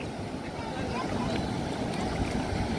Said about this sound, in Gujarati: હાલો ભાઈ નદી પૂરો જોઈ લે, ખડખડાટ કરતી વહી જાય ને